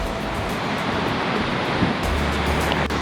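Ocean waves breaking on a shore at a landscape photography spot, a steady loud wash of surf roaring continuously with no pauses and no voices.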